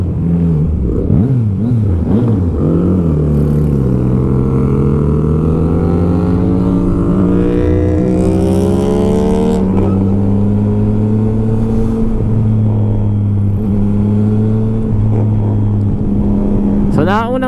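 Big bikes' engines during an endurance ride, loud droning and revving with rising and falling pitch that runs close and continuously, with people talking over it.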